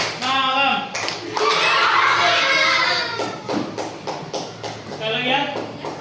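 Classroom of children claps hands in a rhythm game, with sharp bursts of clapping in quick patterns, pausing and restarting as a voice chants the cues over them.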